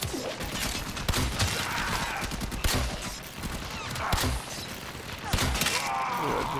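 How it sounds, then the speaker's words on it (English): Rapid weapon fire rips through a row of enemies in the sci-fi shooter Warframe, with dense bursts of shots and crashing impacts running steadily throughout at close range. "let's just shoot through multiple enemies that are in a row too"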